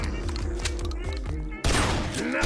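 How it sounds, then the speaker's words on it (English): Tommy gun firing in the retro-style zombie game Guns, Gore & Cannoli: a rapid rhythmic burst of shots for about a second and a half, followed by a sudden louder explosive rush with ringing tones. "Nothing beats a good old Tommy gun."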